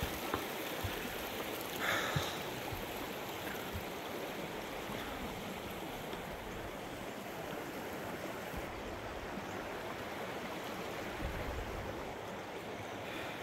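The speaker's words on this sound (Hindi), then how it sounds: "ये पानी एकदम साफ़ है इसको पी सकते हो ये ऊपर से ही आ रहा है" Clear mountain stream water flowing down from above on a trek at Yousmarg, a steady broadband rush that holds at even loudness throughout with no voices.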